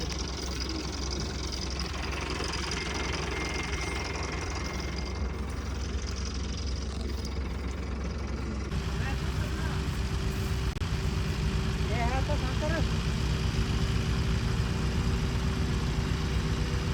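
A small tractor engine idles steadily and loudly throughout, a constant low rumble with a slight knock, growing a bit fuller partway through.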